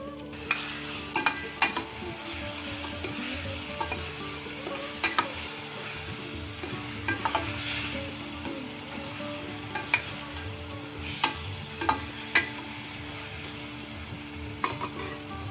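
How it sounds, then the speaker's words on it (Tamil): Raw mango pieces with salt sautéing in a pan, a soft continuous sizzle broken by repeated light clicks and scrapes of stirring, with no voices. "மாங்காய் நல்லா வதங்கட்டும்."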